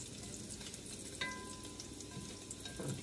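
Bacon fries crispy in a cast iron Dutch oven, a steady close crackling sizzle running throughout, with occasional light clinks of a utensil against the pot and no talking.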